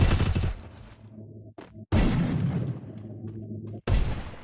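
Gunfire in the Free Fire battle royale game: loud, close bursts of rapid shots with brief gaps between volleys and heavy booming low end, no talking.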